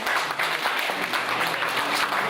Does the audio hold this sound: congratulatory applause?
yes